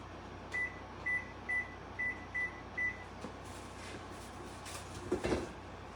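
An oven timer is being set while a cake bakes in a home kitchen, giving six short, evenly spaced electronic beeps, fairly loud and close. A clatter of kitchen handling follows after them.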